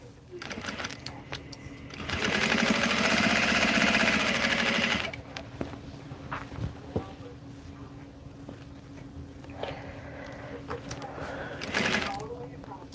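Sewing machine stitching Minky Dot fabric for a quick baby gift, running in a steady, loud buzzing burst of about three seconds, then stopping, with shorter whirring spurts afterward amid quiet handling noise.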